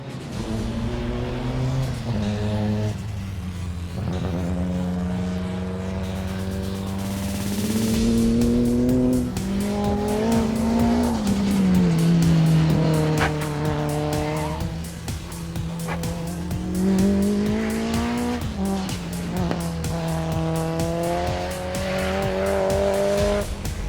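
A Nissan S14 time attack race car laps a track, its engine loud and close, revving up and down through gear changes with tire squeal, sustained throughout.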